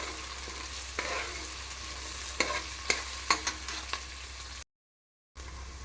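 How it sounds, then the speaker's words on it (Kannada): Onions and a bay leaf frying in a pan, a steady soft sizzle with several light scrapes and clicks of a spoon stirring, heard close and alone, with a brief dropout near the end. "ಈಗ ಇದು ಚೆನ್ನಾಗಿ ಫ್ರೈ ಆಗ್ತಾ ಇದೆ."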